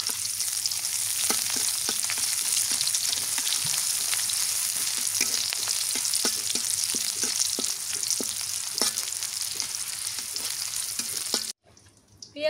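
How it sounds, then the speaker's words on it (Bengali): Chopped onions fry in a pan of hot oil with bay leaves, cloves and cinnamon, a loud continuous sizzle with repeated scraping stir strokes for about eleven seconds before it cuts off, no voices. "পেঁয়াজ ভাজা হয়ে গেছে"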